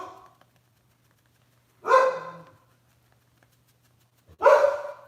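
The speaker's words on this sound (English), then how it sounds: "My dog is barking." Two separate barks from a dog indoors, a few seconds apart, each short and fairly loud against a quiet background with a faint low hum.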